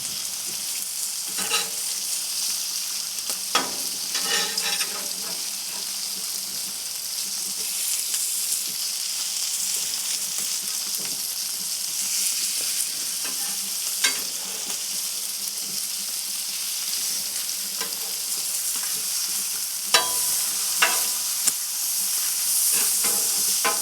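Bacon frying on a hot griddle: steady loud sizzle and hiss, close, with occasional sharp pops and the scrape of a utensil, no talking.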